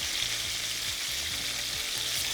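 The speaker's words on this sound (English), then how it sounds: "because we're frying it in this beautiful tallow, it's going to get a gorgeous caramelization on the bottom" Chicken thighs frying in beef tallow in a pan, a steady dense sizzle with constant crackle and no pauses, close and fairly loud.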